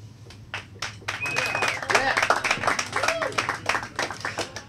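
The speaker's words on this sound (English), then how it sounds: "I could see the crowd was clapping" A crowd claps steadily for a performance at a New York talent show, with a dense run of close, sharp hand claps building and then thinning, while someone talks over it.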